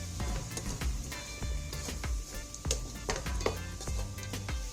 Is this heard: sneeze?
no